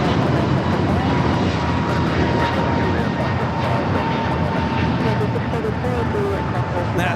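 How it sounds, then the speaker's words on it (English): An American Airlines A321neo takes off at Los Angeles LAX with a loud, steady engine roar that fills the whole stretch, while a person talks over it. "That takeoff is American Airlines 2850 taking off to Philadelphia on the A321neo."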